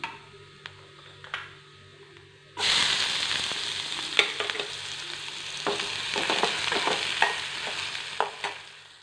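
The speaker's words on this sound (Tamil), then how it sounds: "இந்த சீரகத்தை போட்டு பொறிஞ்சடியும் வெங்காயத்தை போட்டுருவோம்" Cumin seeds hit hot oil in a pan with a sudden loud sizzle, then onions fry in a steady crackling hiss, sharp pops and spatula scrapes breaking through close by, with no talking.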